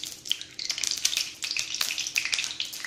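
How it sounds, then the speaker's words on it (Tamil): About 25 grams of coconut oil crackles and sizzles as it heats in a kadai for paneer kothu chapati. Irregular bright pops and spits sound close by, with no talking. "இதில் வந்து ஒரு 25 கிராம் அளவுக்கு தேங்காய் எண்ணெய் விட்டுக்கலாம்."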